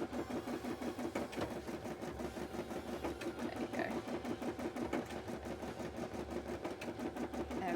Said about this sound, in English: I seem to be sewing both sides of the sequin on.